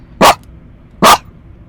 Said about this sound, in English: People do not want to hear you bark, Mr. Mickey.